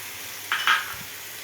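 A spoon of ginger, cumin powder and coriander powder hits hot oil in a pan, a sudden pair of sharp sizzling bursts that quickly settle back into a quiet low hiss.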